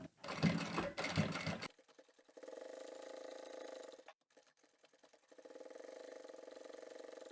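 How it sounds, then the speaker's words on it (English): A sewing machine top-stitching a fabric shopping bag, with a loud rattling burst at the start, then steady humming runs of stitching broken by brief pauses, heard close up. "Starting at the top where the opening is, back stitch a couple of times and then you can stitch to the end."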